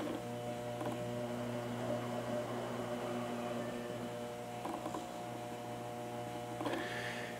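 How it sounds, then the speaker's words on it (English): A DIY weld positioner's motor, switched on by a foot switch, runs with a steady, tonal electric hum and whine, faint but continuous, broken by a few light clicks. "here is the positioner at work"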